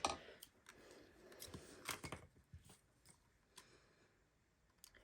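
Scissors snip through shimmer trim to cut a dovetail end for a handmade congratulations card: a few crisp, close cuts come in quick succession, then fainter scattered snips follow.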